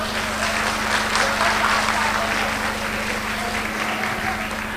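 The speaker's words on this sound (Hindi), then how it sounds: "इन बच्चों की बढ़ावे के लिए जोरदार तालियां।" Loud crowd applause for a children's performance at a golden wedding anniversary celebration, continuous dense clapping over a low background hum in a hall.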